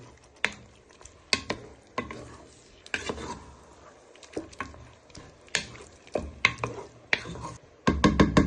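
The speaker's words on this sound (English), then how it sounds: "Just give this one final stir, and then you'll place the lid on." A prawn, chorizo and bacon stew being stirred with a wooden spoon in a pot, a series of irregular knocks and scrapes with wet squelching between them, close and moderately loud, with no talk.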